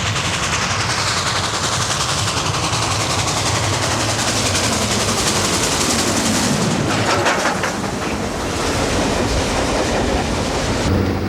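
A Lackawanna train departs Patterson on the Boonton line, its loud rumble and rattling wheel clatter rolling continuously, with sharper rhythmic clacking picking up partway through.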